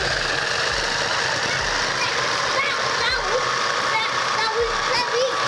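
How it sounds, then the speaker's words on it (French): A blender whirs continuously, mixing cheesecake ingredients in a home kitchen, a steady, loud, high-pitched buzzing hum throughout while an adult and someone talk over it. "Maintenant on va mixer."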